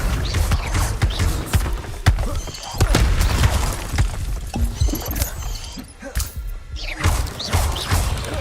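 Accio summoning spell cast during combat in Hogwarts Legacy, its whooshing pull and impacts lost among repeated thuds, crashes and sharp hits in a dense, loud game soundscape, with some voice over it.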